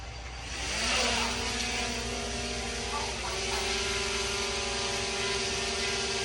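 A DJI Mini 3 Pro drone takes off, its propellers spinning up into a loud, steady, high whine that rises in pitch and then holds close by.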